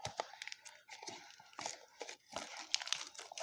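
Foil wrapper of a 2020 Donruss Optic baseball trading card blaster pack being torn open, a close, quiet run of crinkling and ripping bursts with no talking.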